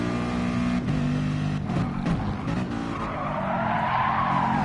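Tyres squeal and skid continuously as a race car slides through a corner in Gran Turismo Sport during an FIA Gran Turismo Championship exhibition race, with engine noise beneath the loud, sustained screech.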